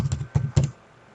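Keys clatter on a computer keyboard in three quick bursts of typing, close and clear, then the room falls quiet.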